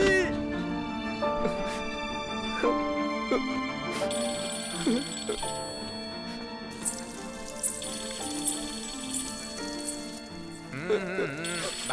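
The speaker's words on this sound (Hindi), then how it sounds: "भाई फोन बज रहा है।" A phone ringtone rings repeatedly in a Hindi film scene, a steady electronic trill layered over background music with people talking nearby.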